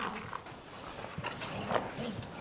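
Puppies from the same litter, two brother pups, make dog vocalizations at close range over steady background noise, with short whimpers and yips scattered through the clip.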